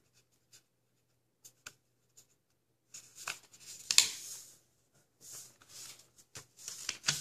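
Paper is creased and folded by hand for an origami horse rampant: quiet scattered taps at first, then a burst of crisp rustling and smoothing, then more short soft crinkles.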